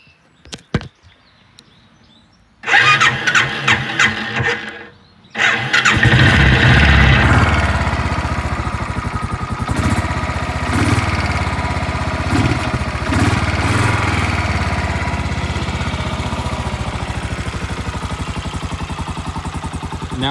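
A Royal Enfield motorcycle with its choke pulled and a rejetted carburetor fires up after a brief cranking attempt, then settles into a loud, steady, close idle with a lumpy, chopping beat.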